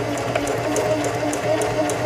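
SINGER 4411 heavy duty sewing machine stitching down a fabric seam, a steady, close mechanical whir with even rapid needle chatter and faint regular ticks.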